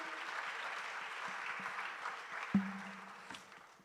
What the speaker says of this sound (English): Give him a round of applause one more time.